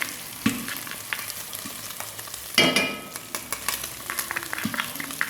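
Garlic hitting hot fat in a pan of frying bacon, a steady close crackling sizzle with stirring scrapes and a sharper burst of spitting partway through.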